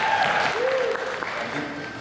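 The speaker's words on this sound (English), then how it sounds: "let's give Joe a round of applause here." A convention audience claps in a dense, steady burst of applause that fades slightly over two seconds, with faint voices mixed in.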